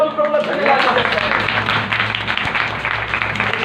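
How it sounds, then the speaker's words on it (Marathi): Church congregation clapping to thank the Lord during a New Year service, a dense ongoing patter of many hands under a voice speaking over it. "आम्ही टाळ्या वाजवून प्रभूला धन्यवाद देतो"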